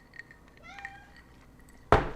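A house cat meows indoors: a couple of faint, soft mews, then a longer rising and falling meow, nearby and fairly quiet, ending in a sudden loud clatter.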